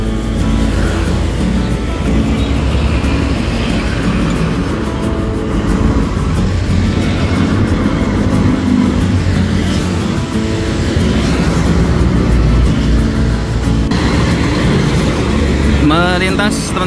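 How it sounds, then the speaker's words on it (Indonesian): A Sugeng Rahayu bus bound for Cirebon rolls past a roadside restaurant stop in Cirebon, a loud sustained engine roar and road rumble close by, with busy traffic noise throughout and no clear speech. "Melintas teman-teman ada Sugeng Rahayu tujuan Cirebon"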